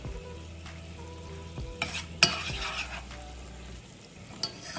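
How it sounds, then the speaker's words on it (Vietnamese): Fishcake braising in sweet and sour sauce is stirred in a pan, with a steady sizzle and repeated scraping stir strokes close by and no talking. "mình muốn kho chả cá với lại chua ngọt, xúc nước sốt chua ngọt này nè"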